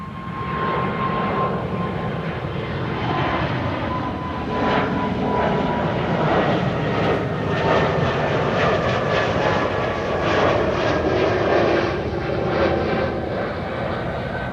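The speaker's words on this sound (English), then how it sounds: "Yeah man, it's the Air Baltic Rasta." An Air Baltic airliner in Rasta livery at Amsterdam Schiphol, its engines giving a loud, continuous roar with a faint whine running through it, sustained for the whole stretch with no voices.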